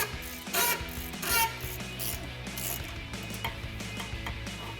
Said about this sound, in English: So I've got 15 and 16mm ratcheting wrenches to remove that bolt.